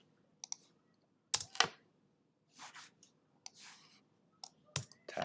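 Computer mouse clicks and keyboard keystrokes while coding a Python-style game program: sharp isolated clicks and short clusters of key taps, close and alone against a quiet background.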